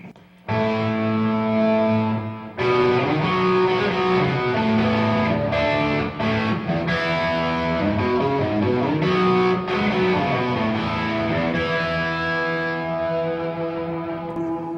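An electric guitar plays chords and lead notes through a Tube Screamer-style overdrive pedal, giving a warm, saturated, sustained tone that rings out loud and clear.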